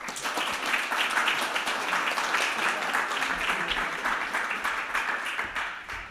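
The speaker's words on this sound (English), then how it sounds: "let's give him a big round of applause" An audience applauds to welcome a speaker at a communication talk, with steady dense clapping filling the room throughout and a little murmur mixed in.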